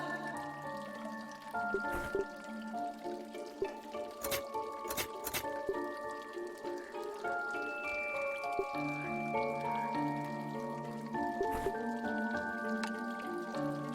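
Water trickles and drips from a water feature in a Lovecraftian horror point-and-click game, soft irregular droplets over a sustained eerie musical drone with occasional sharp clicks.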